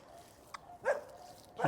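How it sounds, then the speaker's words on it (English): A dog barks outdoors near an open pasture and woods, two short faint barks from a distance over quiet background noise. "This is my dog barking over here."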